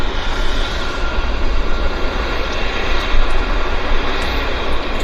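An airliner arriving from Montreal lands at Vancouver airport, a loud, continuous roar of jet engines and rushing air that holds steady for several seconds with no talk.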